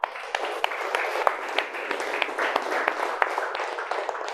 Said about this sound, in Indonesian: Oke, boleh tepukkan sekali lagi.